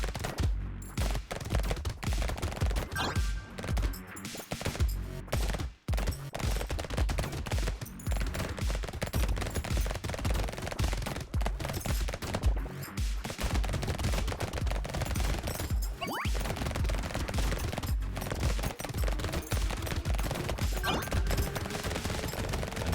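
Rapid SMG gunfire in the top-down shooter Brotato, a dense, relentless stream of quick shots with crashes layered over continuous game music, nearly unbroken from start to finish.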